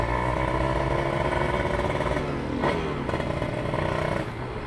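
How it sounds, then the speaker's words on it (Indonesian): A two-stroke Kawasaki Ninja motorcycle engine is revved lightly, its loud raspy buzz holding steady close by with a brief dip and rise midway. "Kita gas tipis-tipis aja ya."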